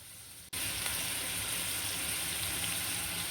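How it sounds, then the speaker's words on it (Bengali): Onion and ginger-garlic paste hit hot oil in a heated pot, and after half a second of quiet a loud, steady sizzle erupts and holds evenly to the end. "এখন নেড়ে চেড়ে পেঁয়াজটাকে ভালো করে ভেজে নিব কিছুক্ষণ রান্না করে"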